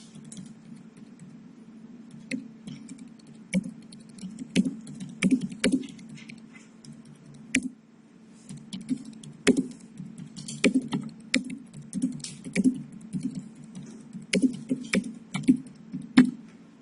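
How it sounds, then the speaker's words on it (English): Typing on a computer keyboard into a notepad, irregular close key clicks in short bursts and pauses with occasional louder single taps over a faint steady hum. "You can type into this pad."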